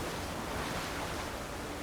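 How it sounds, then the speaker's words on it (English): A waterfall in the game Avowed rushes in a steady, dense roar of falling water, loud and continuous with no other sounds. "It's a good looking waterfall."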